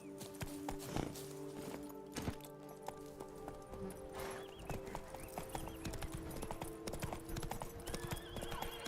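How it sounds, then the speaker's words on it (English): Steady clip-clop of hooves with a few whinnies over a busy game soundscape in The Witcher 3, the horse sounding close and continuous throughout. "Actually, I'll get the horse."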